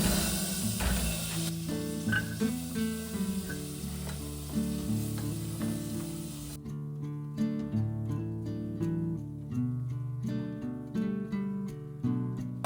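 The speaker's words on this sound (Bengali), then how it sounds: "আমি এখানে প্রথমে এক চামচ মতো বাটার দিয়ে দিলাম অল্প করে একটু এর মধ্যে এবার এই যে সব সবজিগুলো রয়েছে সব সবজিগুলো এক এক করে দিয়ে দেবো" Vegetables for pav bhaji sizzle in a little butter in a pan, a steady, close frying hiss with stirring, heard under melodic background music.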